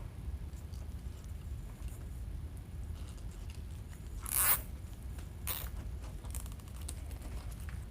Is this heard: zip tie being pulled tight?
yes